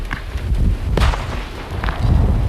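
Roman candle fireworks fire in the dark, a series of sharp pops and thumps at irregular intervals, close and moderately loud, with crackling between shots and no voices.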